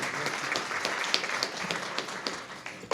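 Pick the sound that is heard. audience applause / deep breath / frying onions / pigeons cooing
audience applause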